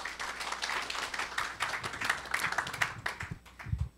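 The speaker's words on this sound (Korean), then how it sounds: "큰 박수로 환영해 주시길 바랍니다." An indoor audience at an energy forum on natural gas applauds with a moderate, steady patter of many hands that thins out near the end.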